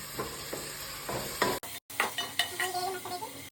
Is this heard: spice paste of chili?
yes